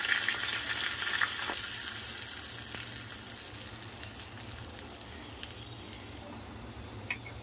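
A tadka of curry leaves and red chili powder sizzling in hot oil, a close, moderately quiet crackling fizz that fades gradually, with a few sharp spits.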